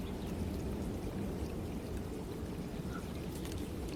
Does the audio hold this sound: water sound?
yes